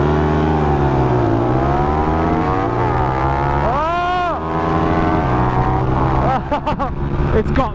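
A Honda V-twin motorcycle engine revs hard during a race, loud and close with rising and falling pitch sweeps as it accelerates and shifts, and another engine's higher whine briefly joins midway.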